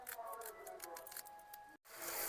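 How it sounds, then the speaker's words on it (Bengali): Knife chopping a carrot into even pieces for a mixed vegetable curry, giving a run of quick, close, crisp cuts at an irregular pace, then a brief silence before more chopping. "এবার গাজরটা কাটছি"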